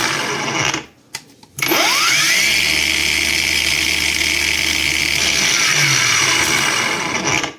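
A Heimerdinger LB184 cordless angle grinder whines at steady high speed after a brief pause and restart, a loud continuous motor drone holding pitch until it winds down; it restarts at minimum speed.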